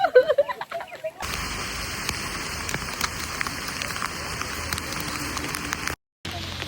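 Heavy rain hisses steadily on surfaces nearby, a dense, constant wash of drops after a brief burst of voices at the start.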